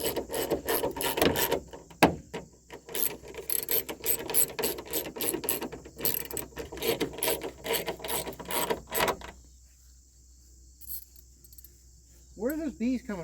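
Rapid ratcheting clicks from tightening lock actuator screws on a 1999 Ford F350 door rattle in dense bursts, then stop, leaving near silence before a brief buzzing at the end.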